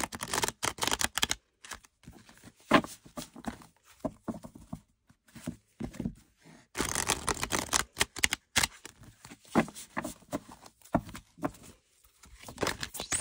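A deck of supple tarot cards being shuffled by hand, close up, in bursts of riffling and sliding patter separated by short pauses.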